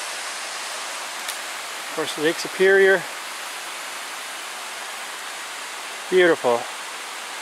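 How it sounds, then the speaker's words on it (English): A waterfall roars steadily in the distance beside Lake Superior's cliffs in cold December, a constant broadband rush beneath brief bursts of someone talking. "I can hear another waterfall."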